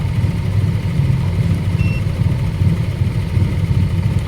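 A Yamaha NMAX scooter with a faulty MAP sensor and broken spark plug idles close by with a steady low hum and rumble. The sound stays even throughout, with no revving.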